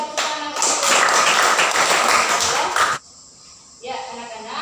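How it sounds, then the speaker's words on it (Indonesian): Group of schoolchildren clapping hands together in a classroom, a dense loud burst lasting about three seconds that cuts off abruptly, followed by quieter voices talking. "Kita tepuk tangan"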